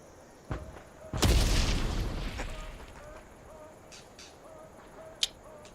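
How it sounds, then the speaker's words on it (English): Grenade explosion in the video game Hell Let Loose Vietnam, a single loud boom with a decaying rumble, preceded by a small thump and followed by faint distant pops. "He can send these fucking grenades"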